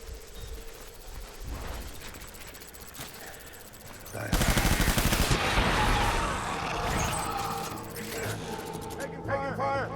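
Gunfire bursts in the video game Death Stranding, loud and dense from the middle of the clip onward, with voices talking over the shooting.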